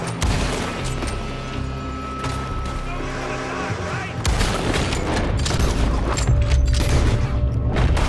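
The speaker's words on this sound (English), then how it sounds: "They're shooting from that building!" Rapid volleys of gunfire in a Western shootout from Red Dead Redemption 2, loud and close, with overlapping shots and booms and a shouting voice partway through.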